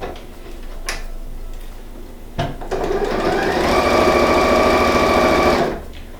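A sewing machine stitches the fabric of a quilted patchwork oven-mitt, its fast mechanical chatter building and running steadily for a few seconds after some soft handling clicks, then stopping.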